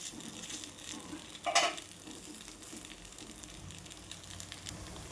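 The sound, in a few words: rava poha appe frying in a small appe pan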